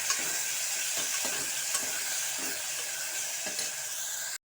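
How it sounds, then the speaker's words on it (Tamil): Tomatoes sautéing in a pan for mutton varuval after the onions, a continuous sizzle broken by repeated scraping strokes of a spoon stirring, close and alone, ending abruptly. "இப்போ அடுத்து தக்காளி சேர்த்துக்கலாம். தக்காளி நல்லா வதங்கணும்."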